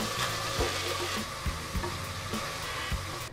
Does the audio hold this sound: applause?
no